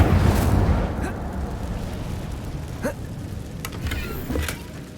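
An Incendio fire spell is cast in Hogwarts Legacy, a burst of whooshing flame that flares loudly at the start and settles into a lower rumbling roar with a few crackling pops.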